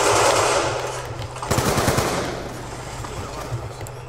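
A light machine gun fires in a video game, with rapid automatic bursts that sound sharp and close, first a long burst and then a second louder one, and no talking over them.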